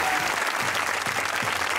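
Studio audience applause on a Pakistani comedy show, a dense steady wash of clapping filling the whole stretch at full loudness with no pauses.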